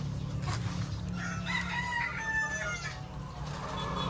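Chickens crow and cluck inside a layer building on an egg farm, several bird calls rising over a steady low hum of farm machinery or fans.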